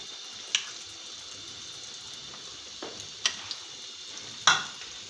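Mixed breakfast batter sizzles and fries in a pan, a steady faint crackle broken by a few sharp clinks and scrapes of a utensil, with no talk.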